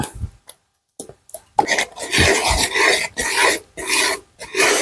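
Jackfruit halwa being stirred with ghee in a pan, heard as rough, rasping scrapes of a spoon against the pan in short bursts separated by brief pauses, close and fairly loud.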